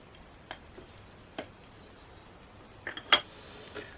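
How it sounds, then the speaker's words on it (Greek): Utensils clink against a bowl while flour, salt and baking powder are stirred together for a yeast-free pizza dough, a few sharp isolated taps spaced out over quiet background. "Ανακατεύουμε."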